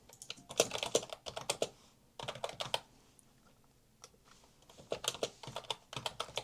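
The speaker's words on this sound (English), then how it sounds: "that's how I am typing in Korean" Fingers tap out Korean text on a computer keyboard fitted with a Korean keyboard cover, in quick bursts of close, crisp clicks separated by short pauses.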